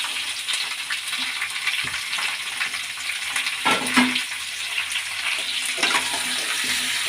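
Garlic, green chilli and tomato frying in hot oil in a pan, a steady dense sizzle with occasional soft clinks and stirring noises, close and continuous.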